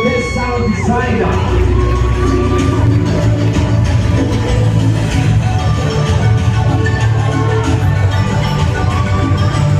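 An audience at the Women in Film Awards 2023 at the Kenya National Theatre claps and cheers, a loud, dense crowd roar with whoops and shouts that holds steady throughout.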